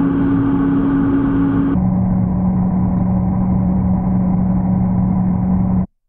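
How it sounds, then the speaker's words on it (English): A pitch-shifted horror ambience like the inside of a spaceship or machine: a loud, continuous low drone with a steady hum, which steps down in pitch partway through, then cuts off abruptly. "it already sounds kind of spaceshipy or inside a machine sort of thing"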